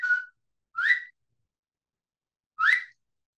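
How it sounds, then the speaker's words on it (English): Three short rising whistles from a person signal a dog to pay attention, crisp and close, spaced apart with silence between. "I will give them a little whistle to warn them that they need to pay attention to me"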